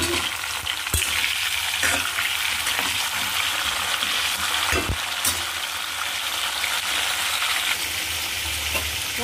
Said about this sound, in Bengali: তো চলুন পটলগুলো আমি ভেজে